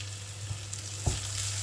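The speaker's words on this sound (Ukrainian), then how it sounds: "Все ретельно перемішуємо." A steady low sizzle in a pan of pearl barley, with a spatula scraping and stirring food in a couple of brief strokes near the mic.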